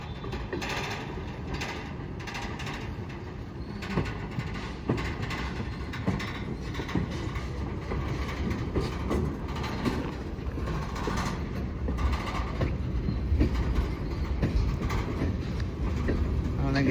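A freight train on the Hamilton Northwestern Railroad moves steadily along the track during switching, giving a continuous low rumble with faint metallic clanks and mechanical rattles throughout, heard from nearby.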